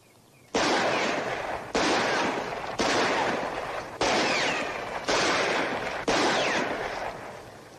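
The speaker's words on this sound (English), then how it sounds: "why don't you just take out your gun and shoot at some?" A revolver fires six loud shots in a Western, spaced about a second apart, each blast ringing out with a short reverberant tail, with no talking.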